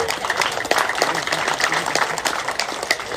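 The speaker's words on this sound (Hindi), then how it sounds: "दोनों हाथ ऊपर उठाकर साथ में ताली मार जोर से" A crowd clapping hard at a lively religious gathering, a dense, continuous run of sharp claps at close range, with voices talking over the noise.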